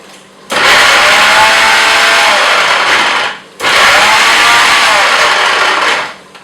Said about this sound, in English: Now you put them on a mixer.